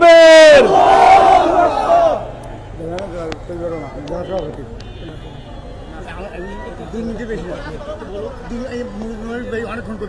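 A large crowd at a rally for madrasa nationalisation roars a loud unison chant in answer to the Nara-e-Takbir call, a booming shout lasting about two seconds, then someone speaks over a microphone.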